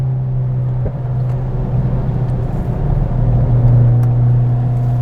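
On a wet race track during a track day, a car engine holds a steady, loud droning hum close by, swelling slightly toward the end as other fast cars come up behind.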